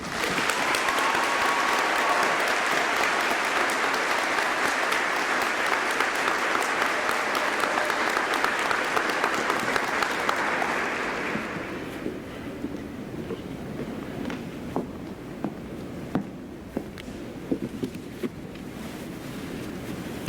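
Sustained, loud applause from a large crowd at a 2021 high school commencement ceremony, steady for about ten seconds before fading into scattered claps and room noise.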